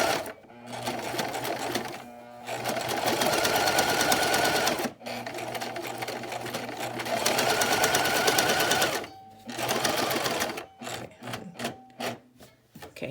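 A sewing machine stitches through duck cloth for a face mask, loud bursts of rapid needle chatter broken by short pauses, then a run of quick short stitches at the end.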